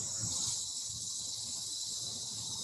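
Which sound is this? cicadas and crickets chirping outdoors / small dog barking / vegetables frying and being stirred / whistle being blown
cicadas and crickets chirping outdoors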